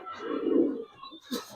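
Giribaz pigeons coo softly at close range, giving one low, rounded coo followed by a brief second call.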